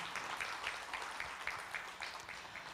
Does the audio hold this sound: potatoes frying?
no